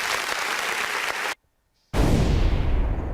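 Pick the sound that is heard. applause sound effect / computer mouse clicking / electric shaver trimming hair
applause sound effect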